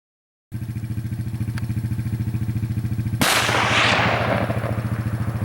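A single loud rifle shot fired while hunting whitetail deer in Idaho cracks out and rolls away in a fading echo, over a steady throbbing engine-like hum that runs before and after it.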